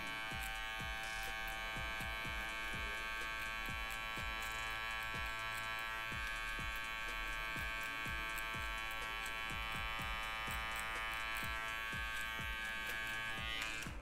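Electric hair clippers buzz steadily while cutting a low fade at a barbershop, a constant mid-level hum broken by short repeated strokes, with no talking.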